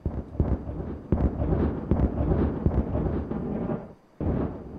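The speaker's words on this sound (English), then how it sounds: "So much is going on, even the explosions are starting to lag." Explosions in the beaver city-building game Timberborn, a rumbling series of booms and bursts layered close together, loud and continuous with a brief dropout near the end.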